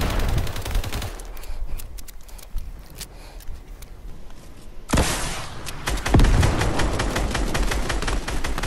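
Fortnite rocket launcher fire mixed with rapid gunshots, sharp loud bursts with a heavy blast near the middle followed by dense rattling fire.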